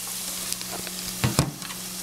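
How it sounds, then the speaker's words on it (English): Cabbage and dumplings frying in a pan give a steady, close broadband sizzle with a constant crackling hiss throughout, broken by a few brief knocks and stirring sounds. "It's sizzling up."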